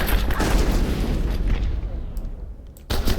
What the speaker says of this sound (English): how about grenades?